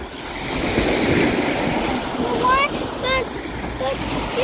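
Surf waves roll and wash onto a beach where people swim, a continuous loud roar with wind buffeting the microphone, and bird-like chirps near the end.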